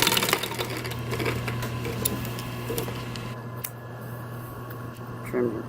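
A sewing machine top-stitches a car headrest cover, giving a continuous whirring hum with light ticking that fades slightly toward the end.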